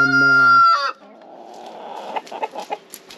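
A rooster lets out a loud, close crow that trails off, followed by softer clucks and scratchy farmyard sounds from backyard chickens.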